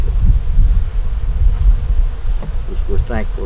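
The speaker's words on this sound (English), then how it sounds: "And the wind's picking up." Wind gusts rumble and buffet around a beehive on a cold, cloudy day, with a low steady roar, a faint buzz of bees and brief rustling near the end.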